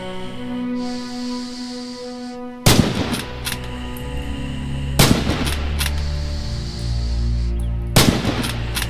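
Three loud, sharp rifle shots from a bolt-action rifle ring out about two and a half seconds apart on a target range in Red Orchestra 2: Heroes of Stalingrad, over a steady tonal background.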